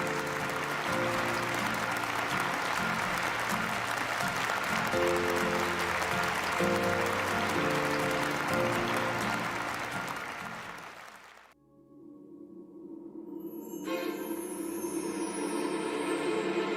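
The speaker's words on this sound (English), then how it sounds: "let us welcome the special performance troupe with a big round of applause" Audience applause for a performance troupe at a summit event, a dense steady roar of clapping with a music bed underneath for about eleven seconds, then fading out as new music starts.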